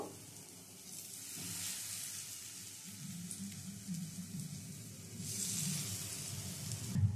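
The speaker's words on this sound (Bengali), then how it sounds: "বড়াগুলো সব দিয়ে দিলাম। এবার একটু ভেজে নেব" Lentil fritters fry in mustard oil in a wok, a steady close sizzle that swells and fades slightly with no voices.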